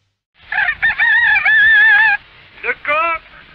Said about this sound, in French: Le coq, symbole de la France.